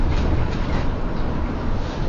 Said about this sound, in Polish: Patrzcie się, tramwaj polski